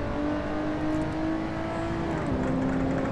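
Race car engine in the driving game Assetto Corsa holding a steady drone with a slowly rising pitch, then a sudden downward step as it shifts gear, loud and continuous with no talk.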